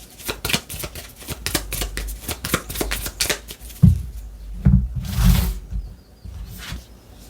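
Tarot cards are shuffled in a rapid, close riffle of crisp flicking snaps, then slapped down and slid across a table in a few softer brushing strokes.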